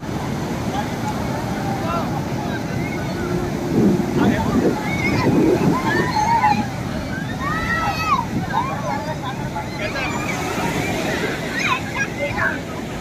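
Waves wash onto crowded Puri beach, a broad rolling surf roar with wind buffeting the microphone, and voices from the crowd carry over it throughout.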